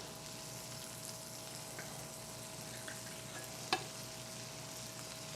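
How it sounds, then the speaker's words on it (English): Carrot cake mixture with nuts and raisins fries in a pan with a soft, faint sizzle and one brief clink of a utensil. "you hear it sizzle?"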